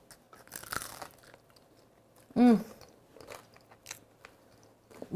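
A single loud, close crunchy bite into a freshly fried sope topped with Mexican cream and salsa, followed by quieter chewing in an otherwise hushed room.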